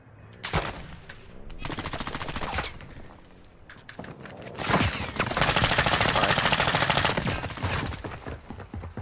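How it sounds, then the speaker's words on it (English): Automatic gunfire from AI enemies in the shooter game DMZ, several loud sustained bursts broken by short pauses, the later ones longer and denser, close and sharp with no talking over them. "Wait, AI is shooting at this guy."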